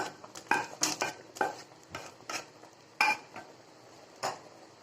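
A utensil scrapes and knocks against a pot as okra, drumstick and tomato are mixed into simmering Kerala sambar, giving a run of close, irregular clinks and stirring strokes with no voices.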